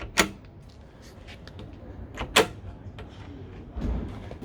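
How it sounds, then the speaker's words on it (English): Two sharp knocks, a sliding rumble, then a low scraping slide near the end as a large rear storage drawer in a Fiat Ducato campervan is pulled open close by. "this enormous rear drawer"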